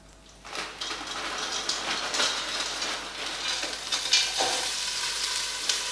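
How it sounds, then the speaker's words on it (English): An empty pan heats up for spiced red cabbage, giving a steady, moderate sizzle and hiss with faint stirring clatter and no voices. "You can start to hear it heat now."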